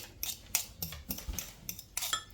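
Eggs and mayonnaise are whisked in a bowl, with quick, uneven clinks of the utensil against the side, about seven light taps in a couple of seconds, close and fairly quiet.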